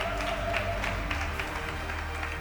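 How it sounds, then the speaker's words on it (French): Steady applause from a crowd at a Suzuki Across motorcycle launch presentation, a dense wash of clapping that holds at an even level throughout. "Applaudissons."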